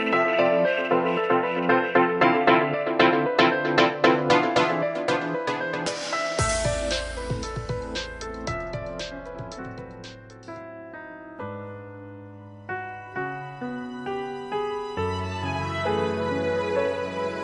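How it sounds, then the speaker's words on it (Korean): The Taeyeon and Jonghyun duet "Breath" plays on a school radio broadcast, opening with a soft, steady piano-led figure and then settling into a fuller passage with deep, sustained low notes. "그럼 오늘의 첫 곡으로 태연과 종현의 숨소리 들려드릴게요."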